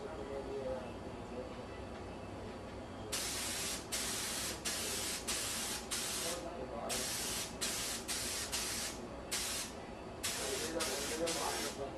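Spray gun applying thin, even paint coats to a Chevy, heard as repeated loud hissing bursts of a second or so each, separated by short gaps, over a steady low background hum.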